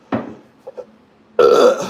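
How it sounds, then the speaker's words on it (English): A loud, drawn-out human burp erupts in the final half-second, preceded by a brief exhale and a couple of faint throat noises, close to the microphone with no talk over it. "I think I have to burp really bad."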